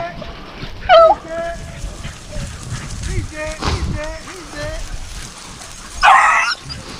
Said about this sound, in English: I heard a couple check dogs in there.